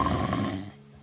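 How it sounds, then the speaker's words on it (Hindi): A loud, low rumbling snore from a big bear in its cave, one drawn-out breath that fades into quiet, with no talking over it. "आती खर्राटों की तेज आवाजें सुनी।"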